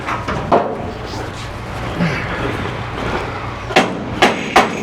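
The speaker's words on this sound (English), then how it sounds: "Give me a hammer." A hammer strikes metal parts while a van is being repaired, giving several sharp, loud, separate bangs. The last three come in quick succession near the end over a busy workshop background.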